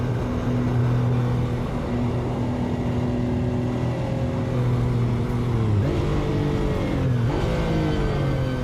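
A Lamborghini engine in the Assetto Corsa racing game drones at a steady high pitch, then dips and climbs again through quick gear changes, loud and continuous throughout.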